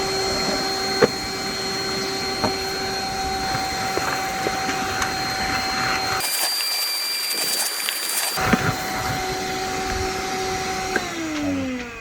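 A RIDGID 18V cordless 3-gallon wet/dry vac runs with a steady whining motor drone, cutting out briefly midway and then starting up again at the same pitch.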